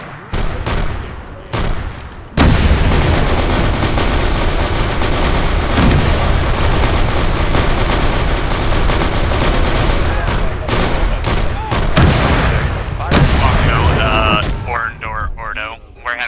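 Sustained heavy gunfire from bolt pistols in a tabletop-style Warhammer video game, a dense loud barrage of overlapping shots and blasts running nearly nonstop, with voices talking over the din.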